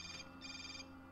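An in-game telephone rings in Hotline Miami 2, two short bursts of a faint electronic trill separated by a brief gap.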